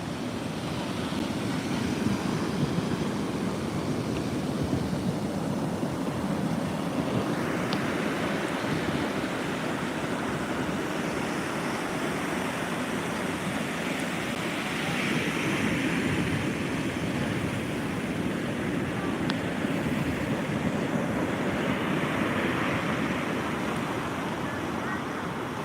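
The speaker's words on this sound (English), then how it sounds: "A really rough surf zone out kind of by the edge of the breakwater there." Rough surf pounds near the edge of a breakwater at Bethany Beach, Delaware, during a coastal flood warning from Hurricane Erin, a steady roar of crashing waves mixed with gusty wind on the microphone throughout.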